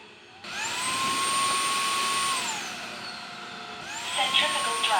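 A Roborock Flexi Lite wet/dry vacuum runs a pipe-cleaning cycle at its dock, a loud steady motor whine that rises and shifts pitch, drops, then surges again near the end.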